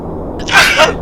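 A single sharp, close sneeze bursts out against a quiet room hum in a home 747 flight simulator cockpit, with a short trailing breath after it.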